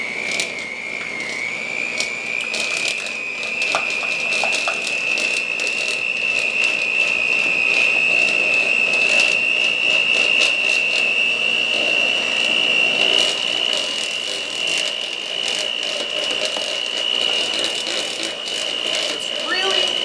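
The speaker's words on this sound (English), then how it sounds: "I'm going to take my mixer I have waiting over here, and I'm just going to beat this up." An electric hand mixer whirs steadily through red velvet whoopie cookie batter, a close, continuous high-pitched motor whine with faint rattling from the beaters that holds at a constant, fairly loud level throughout.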